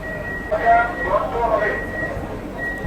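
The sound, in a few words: AC local train door-closing warning signal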